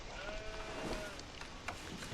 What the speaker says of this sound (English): it's very important as well to make sure that you kill these 2 sheep